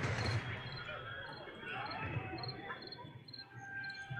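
A creature chirps repeatedly in the fantasy role-playing game Pillars of Eternity II: Deadfire, small high calls recurring over a steady ambient game soundscape with a low background hum.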